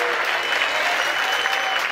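Strong, dense audience applause at a freestyle rap battle, continuous clapping and crowd noise for two seconds.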